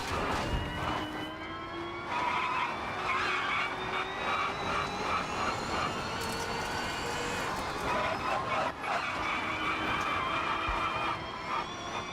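Tires squeal in V-Rally 4 during a rallycross race, a sustained high whine riding over a steady racing engine drone that shifts pitch throughout, with commentary voices talking over it.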